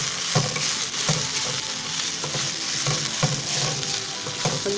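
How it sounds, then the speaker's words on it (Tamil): Onions and red chillies sauté in a pan for onion chutney, a dense continuous sizzle close by with regular scraping stir strokes roughly every second, no voices over it. "நல்லா வதங்கிடுச்சு பாருங்கள், நிறம் மாறிடுச்சு பாருங்கள்."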